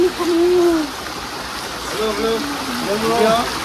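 A mountain stream in the Thabang area of Rolpa, flowing with a steady broadband rush while a voice speaks over it in a melodic, hooting tone.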